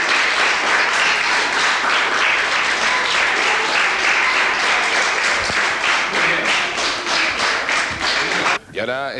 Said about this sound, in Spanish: Te vamos a dar un aplauso grandísimo.